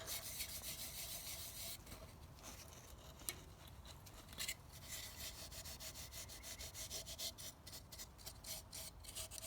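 Sculpture surface being scuffed up to distress it, a faint, rapid scratchy rubbing that repeats in quick strokes with a few sharper scrapes, close and quiet with no talking.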